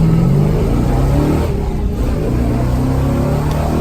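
A 1963 Ford Galaxie 500 on new tires and wheels accelerates hard, its engine roaring in a loud, steady low rumble with a brief dip partway through, heard close and alone.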